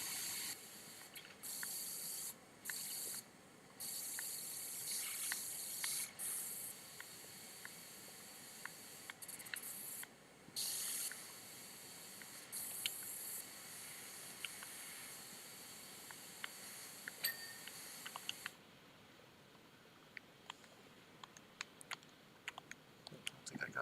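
A pressure washer in the video game Power Wash Simulator, on a Christmas skating rink level, sprays in long continuous hissing bursts broken by short pauses, with scattered small clicks and a quieter stretch near the end.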